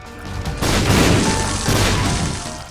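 A loud bomb explosion in the video game Binding of Isaac, a sustained booming blast with crashing debris that rumbles for over two seconds, with no voices over it.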